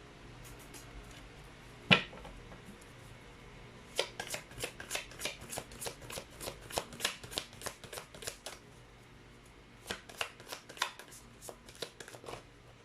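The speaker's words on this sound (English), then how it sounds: "Let's actually pull up another set of cards." Tarot cards are shuffled close by, first with a single sharp snap, then in two bursts of quick crisp riffling clicks separated by a short pause.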